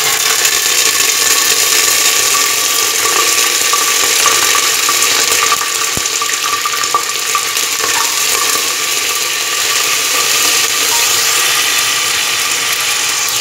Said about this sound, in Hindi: और इसे भून लेंगे।